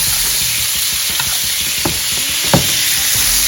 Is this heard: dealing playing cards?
no